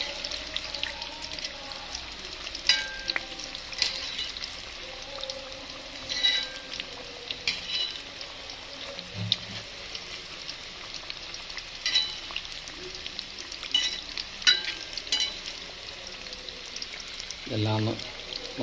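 Chicken cutlet filling frying in a pan, a continuous sizzle broken by repeated scraping and stirring sounds from a spoon, close up, with someone speaking intermittently over it.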